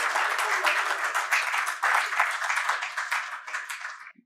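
An audience at a Gujarati literary talk claps for the two speakers, giving dense, sustained applause that swells and then tapers off to silence at the end.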